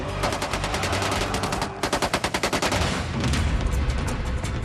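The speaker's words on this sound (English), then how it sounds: "There was massive shooting." Massive automatic gunfire during a reenacted shootout at the Entebbe airport terminal, with rapid bursts of sharp shots in fast rhythmic volleys, loud and continuous with short gaps.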